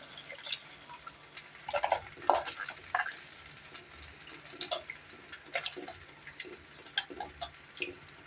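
Tamarind water poured into a simmering pan of paruppu rasam, with a few splashy bursts and soft bubbling, followed by light clinks and quiet crackling.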